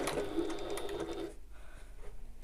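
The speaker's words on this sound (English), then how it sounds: "I'm sewing close to the edge without risking going over the edge" A sewing machine topstitches close to the edge of fabric on a bag, a close, fast whirring run that stops about halfway through, leaving a short quiet gap.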